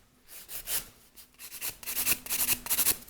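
A 150 grit nail file rasps across a gel nail extension in a salon, producing soft, close rubbing strokes that grow quicker and a little louder toward the end.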